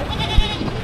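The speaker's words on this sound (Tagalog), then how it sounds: "Napakalaking kambing." A large goat at a livestock market gives a single short bleat, close and fairly loud, over a low background murmur of the market.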